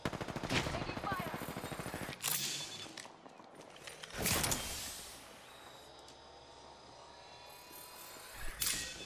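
Gunfire directed at the player in Apex Legends, rapid automatic bursts with sharp impacts and a few heavy single shots spaced through the clip, close and fairly loud, with brief voice chatter.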